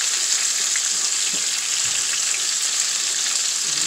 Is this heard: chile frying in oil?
yes